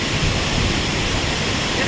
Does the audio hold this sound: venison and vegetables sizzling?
no